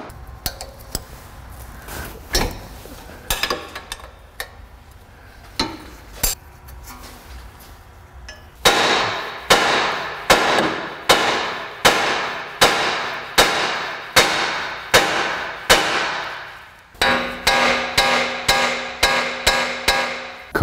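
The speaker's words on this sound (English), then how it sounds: "The danger of smacking this with a hammer repeatedly is you mushroom the end out" Metal-on-metal hammer strikes on a 36 mm axle nut of a 2005 Honda Odyssey ring out, scattered at first, then a steady run of sharp, loud blows in regular rhythm with ringing decay.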